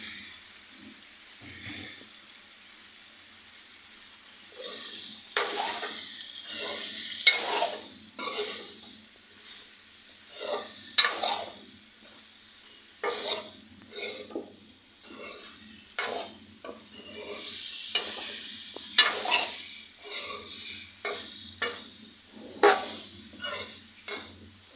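Ridge gourd pieces going into a pan of fish curry, then sizzling softly while a utensil scrapes and clinks against the pan in irregular bursts, close and fairly quiet, with no voices.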